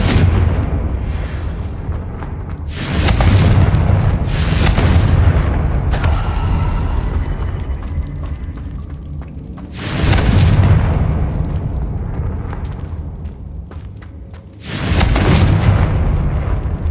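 Confringo blasting spell explosions from Hogwarts Legacy, with several loud, deep booms arriving at irregular intervals over a continuous rumbling, crackling game soundscape.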